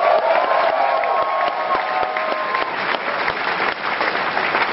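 Sustained audience applause fills a packed convention hall during a Star Wars: The Old Republic panel at New York Comic Con 2011, dense and steady clapping with a few faint cheers mixed in throughout.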